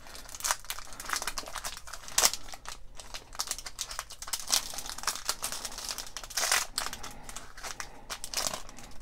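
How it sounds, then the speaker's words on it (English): Crinkly foil of a LEGO Movie 2 card pack is ripped open by hand, a continuous close run of crackling and tearing rustles, fairly quiet, with no voices. "so I'll just rip it open fully."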